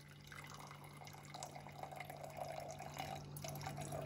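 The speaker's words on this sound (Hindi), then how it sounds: "इस पर भी मैं थोड़ा सा पहले नीचे पानी डाल रही हूँ," Water is poured in a thin stream into a container for homemade candles, a faint, trickling splash with a low steady hum beneath, continuous for a few seconds without talk.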